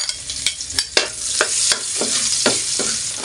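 Garlic and onion sizzle in hot oil while being sautéed for pork estofado, a steady close frying hiss broken by repeated scraping stirs of the spatula, with no talking.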